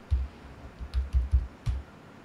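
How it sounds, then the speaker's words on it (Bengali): Five quick, soft keystrokes on a computer keyboard, typed in a short uneven burst, close and dry, with no speech. "এখানে লিখব বীরভূম"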